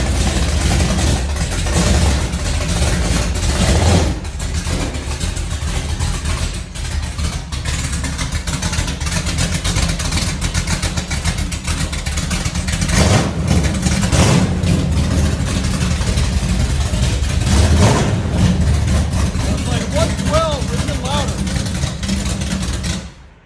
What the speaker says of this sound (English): that's what this car sounds like with open headers